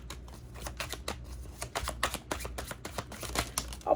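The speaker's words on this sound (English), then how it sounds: "I'm going to turn it over so I can't even read it while I continue to shuffle." Tarot cards being shuffled by hand, a quick run of crisp, close riffling taps and flicks in an irregular rhythm, fairly soft and with no voices.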